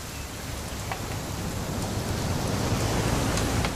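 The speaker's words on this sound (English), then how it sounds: "It's gonna rain the whole weekend, isn't it?" Even, hissing video game rainfall with scattered faint drip ticks, constant and moderately loud with no voices.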